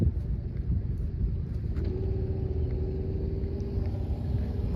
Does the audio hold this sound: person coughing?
no